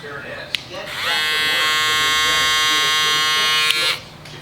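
A Babyliss FX3 electric shaver hums with a steady, bright buzz for about three seconds after a click, then cuts off; it is close and loud and stands alone.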